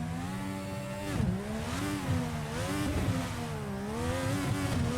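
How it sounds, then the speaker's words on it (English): A modern IndyCar with a V6 racing engine revs and accelerates, a loud, close, continuous engine note rising and falling in pitch through several throttle swells, with no talk over it. "Right, so here we are in the IndyCar. Let's give it a quick rev. Modern day V6 engines in a racing car"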